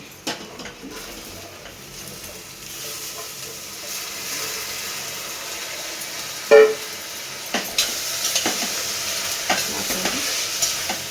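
Finely chopped beans, carrot, kohlrabi and potato fry in hot oil in a pan as a spoon stirs and scrapes. The sizzling builds steadily, broken by a few sharp metallic clanks.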